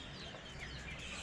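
Chickens kept on a house rooftop cluck softly and continuously over a steady background, low in level with no voices.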